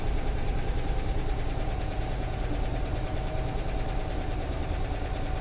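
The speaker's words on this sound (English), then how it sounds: "And now this is a cold start." A 1956 Cadillac engine idles steadily and close up after a cold start, a continuous rumbling drone with a faint knocking pulse running throughout; a possible exhaust leak.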